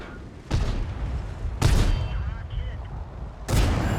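Three heavy tank cannon shots in World of Tanks, fired from a Centurion Mk.1 on the Ruinberg map against a T-54, each a booming blast with rumbling decay, spaced roughly a second or two apart.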